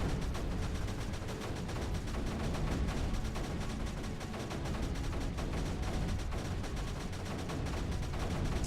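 Mortars in the game Creeper World 3 fire in a dense, continuous barrage, a steady loud rattle of rapid blasts with no pauses and no speech.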